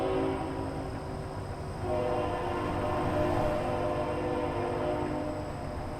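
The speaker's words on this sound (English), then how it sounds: "Oh, we got a train somewhere." A train sounds somewhere near a highway heading south toward Fort Worth, a steady horn-like tone above the continuous rumble of road and cabin noise, heard at moderate distance without talk.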